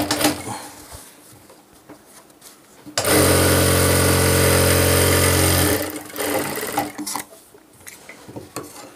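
Sewing machine stitching a seam on men's pajama fabric, one loud, steady run of about three seconds, close by, with quieter handling sounds before and after.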